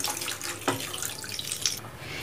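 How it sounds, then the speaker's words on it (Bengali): Hot water pours into a pan of frying moong dal, making a steady rushing, splashing stream that fills the whole short moment and then eases off near the end. "এবার আমি জল দিয়ে দেবো, জলটা কিন্তু গরম দেবেন"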